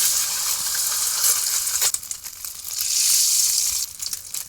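An egg hits hot oil in a pan and fries with a loud, bright sizzling hiss that briefly dips after a sharp crackle, then surges back strong and steady; no voices.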